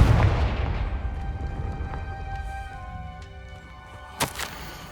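Confringo fire spell from the Hogwarts Legacy video game, a fiery blast that starts with a loud booming burst, decays into a crackling rumble, and ends with a sharp secondary pop near the end.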